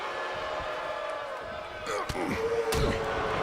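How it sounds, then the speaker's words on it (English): Stomps in a WWE 2K video game wrestling match, two sharp thuds on the ring canvas heard near the end over steady crowd noise and commentary. "Big stomp to the shoulder."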